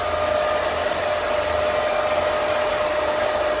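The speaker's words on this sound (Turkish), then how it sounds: "Ve saçımı fön makinesini tutup yukarıdan aşağıya tutuyorum." A hair dryer runs continuously while drying hair, a loud, steady blowing roar with a constant motor whine that fills the whole stretch without a pause.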